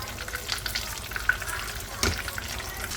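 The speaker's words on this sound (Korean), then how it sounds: "계속해서 튀겨볼게요" Breaded pork loin cutlets for tonkatsu deep-frying in hot oil at home, a dense continuous crackling sizzle with occasional louder pops and a brief clatter near the end; no one speaks.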